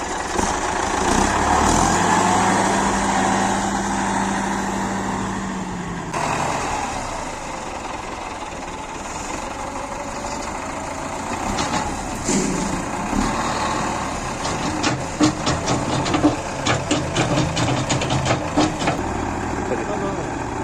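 A diesel tractor with a front bucket idles and works beside trucks being loaded with manure on a farm field, a steady engine rumble with changing revs and clanks, while people talk over it.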